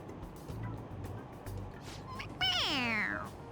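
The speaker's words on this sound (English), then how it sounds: "It meows when you press on its head." A loud, drawn-out electronic meow from a toy cat in the video game Persona 5 Royal, rising then sliding down, preceded by a few soft bumps and background noise.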